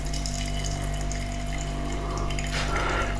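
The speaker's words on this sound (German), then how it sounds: "Jetzt gieße ich erstmal ein bisschen was ein." Tea pours into a cup in a steady, fairly loud trickling stream over a constant background hum, the splashing brightening toward the end with no talking.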